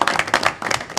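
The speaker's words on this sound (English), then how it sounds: "We're going to give you guys a round of applause." Clapping from the audience at a parish government regular meeting, a brief burst of quick, close hand claps in an uneven rhythm, fairly loud, lasting about a second.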